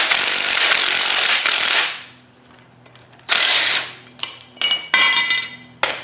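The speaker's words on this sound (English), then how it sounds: "So I'm actually going to grab an impact for that." An impact wrench works a part off a 1995 Ford F350. Several loud, harsh bursts of rattling hammering come close up, separated by pauses and shorter stuttering hits, with no voices.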